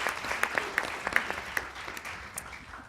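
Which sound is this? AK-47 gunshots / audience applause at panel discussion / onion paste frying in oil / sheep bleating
audience applause at panel discussion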